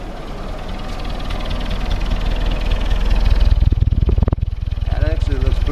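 Willys CJ2a jeep with an L134 engine running at idle after starting, a steady low rhythmic chugging that swells slightly louder partway through, close by, with someone briefly talking near the end.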